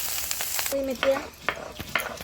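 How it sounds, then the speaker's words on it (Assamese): Fish sizzles as it fries crisp in a pan, Bengali village style, with a steady hiss, a few spatula scrapes and a brief tonal squeak, no speech. "এনেকৈ মাছটো কঢ়াকৈ ভাজি ল'ব লাগিব ৰঙা ৰঙাকৈ"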